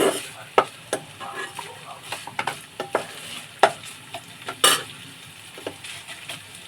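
Grated coconut fries in a pan while a utensil stirs it, with a steady background sizzle and irregular scraping knocks from the spoon against the pan, some louder and sharper than others, and no one speaking.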